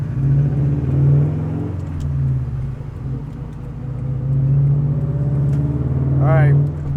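Subaru STI with a new exhaust, tuned through ECUFlash, runs a low steady engine rumble that swells and eases in waves while someone talks over it throughout.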